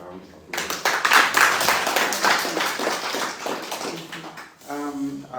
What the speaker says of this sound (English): I think our VC deserves another round of applause.